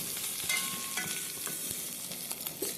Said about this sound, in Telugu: కొంచెం బ్రౌన్ కలర్ వచ్చే వరకు ఫ్రై చేయండి